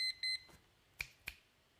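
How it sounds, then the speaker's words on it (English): Electronic beeps, a couple of short high tones early on followed by two sharper clicks, quiet and sparse against a near-silent background. "Four beeps."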